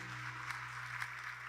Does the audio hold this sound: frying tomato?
no